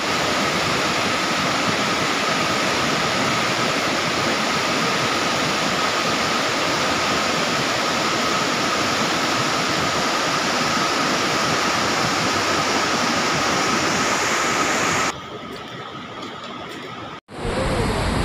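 Rushing floodwater after a cloudburst near Rambara on the Kedarnath trek route, a loud, steady, broadband roar that fills the scene close by and drops away abruptly near the end.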